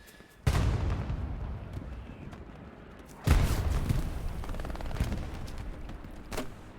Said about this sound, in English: He's throwing out some grenades.